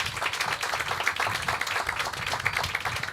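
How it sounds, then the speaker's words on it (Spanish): A crowd at a university tribute to victims gives sustained, dense applause, heard at moderate distance and fairly even throughout the short burst. "un fuerte aplauso"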